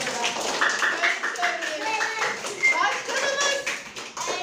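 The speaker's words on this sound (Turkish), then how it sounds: "Koca bir alkış istiyorum." Primary-school children in a classroom clap irregularly while excited young voices chatter and call out over the clapping throughout.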